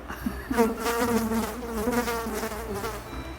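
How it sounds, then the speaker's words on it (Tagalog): A housefly buzzes close by, a continuous wavering drone that rises and falls slightly in pitch as it moves. "may dumaan na langaw"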